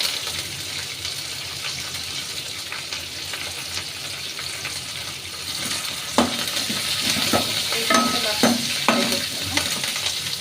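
Green chillies and curry leaves fry in hot oil in a pan for okra masala curry, a steady close sizzle that grows louder near the end, with sharp crackles and spatters and a few scraping stirs.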